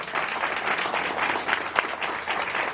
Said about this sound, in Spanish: Denle un aplauso a Dios y a ellos.